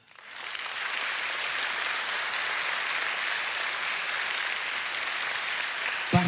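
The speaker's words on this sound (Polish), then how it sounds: "Poproszę Państwa o brawa." An audience at a winners' concert of an international song festival gives a steady, even round of applause that builds quickly and holds, fairly distant and without talk.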